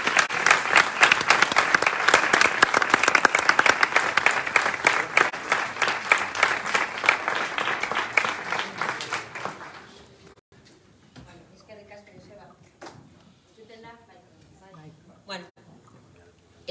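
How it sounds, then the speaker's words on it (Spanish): Loud, sustained applause from a crowd fills the first half, then fades out as a person starts talking. "la vais a dar un fuerte aplauso a Itziar Urtasun."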